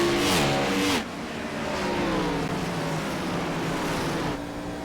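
On-board engine roar from a Gen 6 series race car at Nashville Fairgrounds, loud and steady as the engine winds up and shifts, with a brief lift and drop in pitch before it climbs again.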